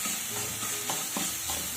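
Ginger garlic paste with chopped carrot and capsicum sizzles in a pan while being stirred, a short close burst of steady frying hiss broken by a few scraping strokes.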